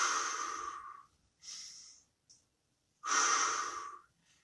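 Deep, effortful breathing during a partner workout: a long exhale, a shorter breath, a brief catch, then another long heavy breath, close and fairly loud with no talking.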